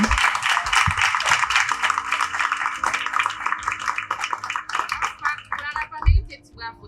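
Audience at a nurses' discussion day event clapping in sustained applause for the initiator, dense and steady before thinning out toward the end, with some voices mixed in.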